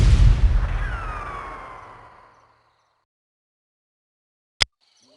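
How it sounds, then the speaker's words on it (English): Gunshots in an animated Tarzan jungle story: a loud blast booms and rolls away over about two seconds with a whistling tail. After a stretch of silence, one sharp crack follows. "But before Kerchak could speak, shots rang out."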